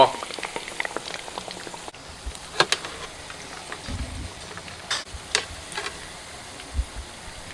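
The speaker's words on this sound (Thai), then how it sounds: "ทอดแค่พอสุกนะครับ แบบเนี้ย ใช้ได้แล้วพอ" Sun-dried pork fries in hot oil: close crackling and popping with scattered sharp spits and bursts over a soft sizzle, moderately loud and irregular.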